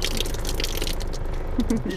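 Water sprays and splashes from a homemade shower device built from a plastic bottle, a soft continuous patter with a few brief drip-like accents near the end, fairly quiet.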